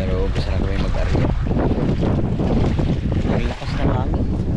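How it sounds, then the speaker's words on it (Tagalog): Strong northeast monsoon wind roars over a boat at sea at night, loud continuous buffeting with sea wash underneath, while people talk over it. "Ang lakas ng hangin."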